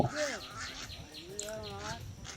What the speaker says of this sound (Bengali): পাখিদের নানা রকম ডাক এক অপূর্ব সুর তৈরি করছে